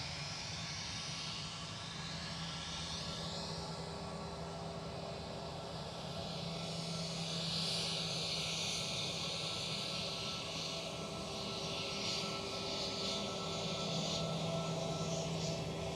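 A British Airways airliner passes at Amsterdam Schiphol, its jet engine roar a steady broad rumble that swells slightly over about sixteen seconds, heard alone without voices.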